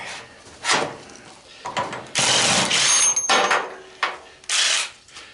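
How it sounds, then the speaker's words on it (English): A ratchet fitted with a 1-inch socket works loose a die-cast zinc part on an old clothes dryer being scrapped, producing several bursts of harsh metallic rasping and clicking separated by short pauses, close and loud. "That was a 1-inch socket."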